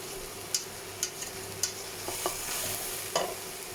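Vegetables for ratatouille sweating in a hot pan, giving a steady soft sizzle with a few sharp scraping or stirring taps spaced across a few seconds, close and fairly quiet, no voices.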